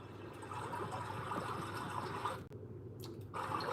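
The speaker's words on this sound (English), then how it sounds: "The water ASMR." Steady flowing water runs continuously and fairly close, with a short dip and break before resuming.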